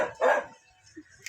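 A dog at a house in a rural area lets out two quick barks close by, the second one louder, and then there are a couple of faint yips.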